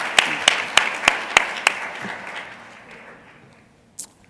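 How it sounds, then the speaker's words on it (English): Applause from an audience at a university writing awards ceremony, a handful of sharp, spaced claps standing out over softer crowd clapping that dies away within a few seconds. "Let's give her a round of applause."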